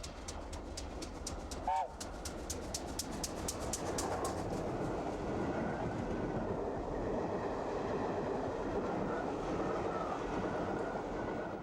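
A streamlined Gresley A4 steam locomotive rumbles steadily past with a rhythmic clatter of wheels, while a pigeon coos briefly near the start.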